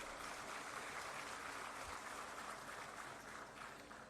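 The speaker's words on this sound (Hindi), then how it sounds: "ताम्रध्वज भैया एक बार जोरदार ताली।" Crowd applause at a political gathering in Chhattisgarh, a steady, dense wash of clapping that holds at an even level throughout and fades only slightly toward the end.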